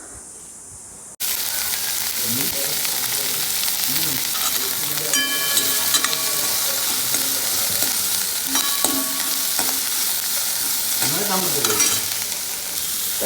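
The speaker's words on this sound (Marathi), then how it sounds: "तर आता आपण हा घेऊन फोडणीला घालूया" Fresh curry leaves dropped into hot tempering oil for poha, a loud crackling sizzle that bursts in suddenly after a quiet moment and keeps popping and hissing, with clinks of a spoon stirring in the pan.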